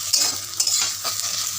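Okra stirred and frying in oil in a pan, a loud close sizzle with rhythmic scraping strokes of a spatula, alone without talk.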